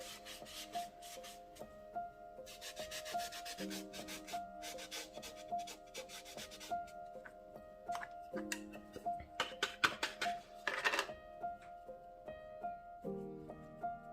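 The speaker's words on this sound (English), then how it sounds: "And the excess I always clean with a little bit of clear wax." Clear wax is rubbed by hand onto an old wooden dining table, producing faint, repeated scrubbing strokes in short bursts, under a soft steady musical tone.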